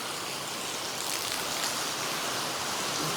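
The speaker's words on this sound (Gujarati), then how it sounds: "બહુ વરસાદ બધું ક્યાંય એક જગ્યા નથી એવી કે આપણે પગ મૂકી શકીએ" Dense, steady hiss of rain pouring down, constant and unbroken, with no voices.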